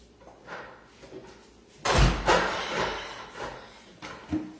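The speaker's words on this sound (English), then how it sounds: "I just got to shut my door." A door is shut nearby with a solid wooden slam and thud, followed by a second softer knock a couple of seconds later, with no talking.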